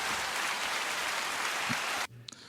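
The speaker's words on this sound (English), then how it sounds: "Can we get a round of applause for Dave Chapelle?" A dense wash of audience applause in a podcast studio for comedian Dave Chappelle, steady and loud for about two seconds, then cutting off abruptly into quiet.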